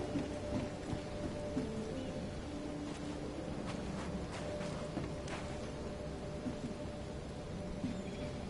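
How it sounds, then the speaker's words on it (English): Steady, dense rain hiss in the video game The Sinking City, with scattered droplet ticks and a low rumbling backdrop, fairly faint and continuous, no talking. "It's raining all day here."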